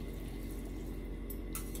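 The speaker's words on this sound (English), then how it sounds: "Alright, so drain the noodles." Cooked fire noodles being drained from a pot into a sink: a steady, fairly faint stream of pouring and splashing water with no talking.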